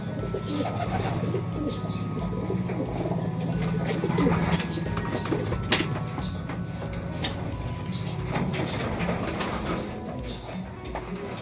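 Racing pigeons cooing continuously in a low, rolling chorus inside a loft, close by, with occasional flutters and faint background noise.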